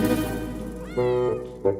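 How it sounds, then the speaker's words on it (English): Cats meow in the video game Solnest, with several short tonal calls: a long one at the start, another near the middle and a brief one at the end, each clear over a steady game background. "Kitties came here to find catnip plants."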